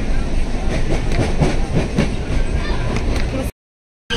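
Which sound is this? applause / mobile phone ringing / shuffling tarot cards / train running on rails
train running on rails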